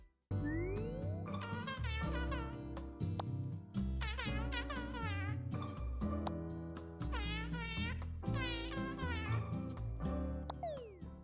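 Cats meow over and over in the cozy tea-making video game Pekoe, with bright, sliding cartoonish mews coming in clusters over a continuous musical backdrop, loud and close throughout.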